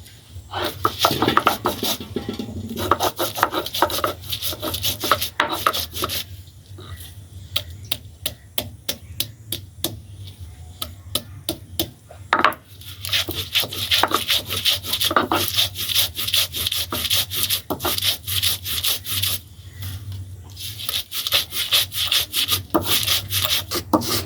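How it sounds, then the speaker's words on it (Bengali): Whole spices, including cumin, coriander, ginger and raw rice, ground by hand on a grinding stone, making repeated scraping and rubbing strokes in fast rhythmic bursts with short pauses between them, close and clear. "জিরে আদা ধনে কাঁচা চাল ওটা গোটা মশলা পিঠে তৈরি করার জন্য এগুলো বেটে নিব"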